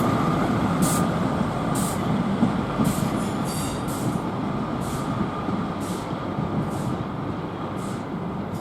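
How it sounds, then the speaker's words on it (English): An East Midlands Trains Class 156 diesel unit departs a bay platform at Leicester, a steady low engine rumble under rhythmic wheel clicks over rail joints, moderately close and continuous. "an East Midlands Trains Class 156 departs with a train bound for Lincoln."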